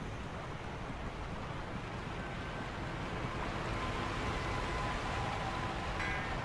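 A roaring waterfall in the video game Sekiro produces a steady, dense, broadband rush of crashing water that stays loud and unbroken throughout, with no talking.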